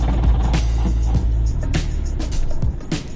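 A Lotus Emira V6 with a manual gearbox rumbles loudly and close, its engine lurching with uneven surges before stumbling and cutting out in a stall.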